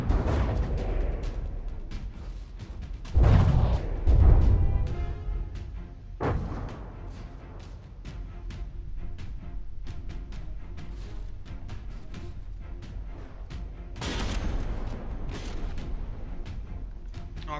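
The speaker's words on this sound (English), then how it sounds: "Quasi getting tossed around by an explosion there" Explosions and gunfire from a From the Depths naval battle between warships, with heavy booming blasts near 3–4 s, 6 s and 14 s over a steady rumble of shellfire and crackling impacts throughout.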